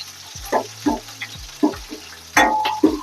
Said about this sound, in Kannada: ಒಣಮೆಣಸಿನ್ಕಾಯಿ 4 ಹಾಕೊಂಡು